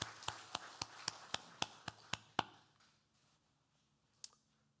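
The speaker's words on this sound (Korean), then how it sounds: "하나님께 영광과 박수 올리겠습니다" A church congregation claps in unison, about nine sharp, evenly paced claps that stop abruptly, followed by near silence and one last stray clap.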